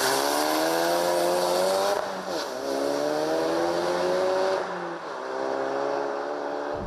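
A car doing a launch-control start at full throttle with a fast clutch release: a loud, close engine roar rising steeply through the gears, with quick drops at each shift and a tyre squeal, no voices.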